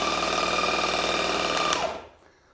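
A Skil 12V compact cordless jigsaw runs continuously with its trigger locked on, giving a steady high whine with a fast reciprocating buzz, close and loud, then stopping and spinning down near the end.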